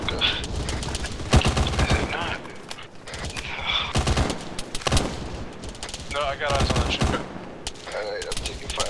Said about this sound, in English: Alright, I'm taking fire